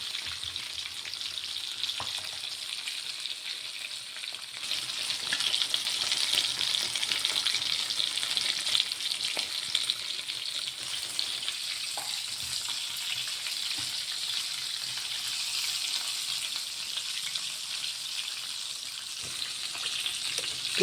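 Chicken frying in rice bran oil on low heat, a steady close sizzle with soft crackles and occasional stirring or turning sounds, continuous and without talk.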